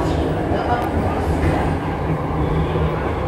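Jakarta MRT subway train heard from inside a car, a steady loud rumble and rolling roar with a low hum running throughout, no distinct breaks.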